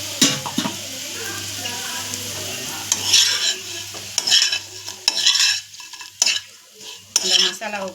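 Masala is stirred into fried elephant foot yam in a pan, with a soft sizzle and repeated scraping strokes of a spoon. The strokes come in irregular bursts at close range.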